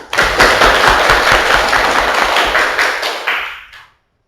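A Grade 7 Islamic religious education class claps hands together in a loud, close, rhythmic burst of tightly grouped claps that lasts about four seconds and then stops abruptly.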